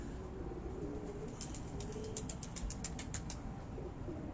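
A female Lakhi pigeon is close by, making a rapid run of about a dozen sharp clicking or flapping bursts over roughly two seconds against a steady low background hum.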